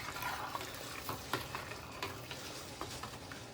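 Soup being stirred in a pot after a pinch of sugar goes in, for an Italian wedding soup: soft scraping and swishing with light sizzling and a few clinks against the pot, steady and fairly quiet, with no talking.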